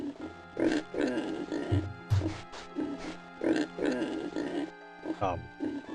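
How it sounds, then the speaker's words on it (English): A pig in the video game The Elder Scrolls II: Daggerfall grunts and oinks furiously in repeated bursts, fairly close, with short snorting pulses throughout and no talk. "That's a furiously grunting pig."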